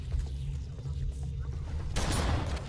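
Covenant gunfire in Halo Combat Evolved, a dense fusillade of plasma shots and impacts under a low rumbling battle din that swells into a bright, loud burst near the end.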